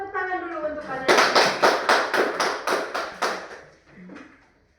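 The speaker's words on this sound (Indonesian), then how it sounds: "Jadi tepuk tangan dulu untuk kalian." In a classroom lesson, a teacher and children clap together in a rhythmic burst of about a dozen sharp, evenly spaced claps, close and fairly loud, following a voice and trailing off into a few scattered claps.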